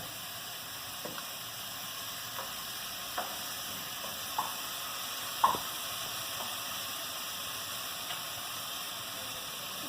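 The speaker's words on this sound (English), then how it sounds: "Let it saute." Cabbage curry sautés quietly in a pan, giving a steady low sizzle with a few faint clicks and stirs, alone with no talking.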